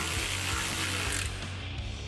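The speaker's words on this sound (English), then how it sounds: "Next, tighten down the hardware, but don't tighten down all the way" A ratchet tightens 13mm hex bolts on a running board bracket of a 2019-2024 Dodge, sounding as rapid close clicking pawl strokes over a dense mechanical rattle, with no talk.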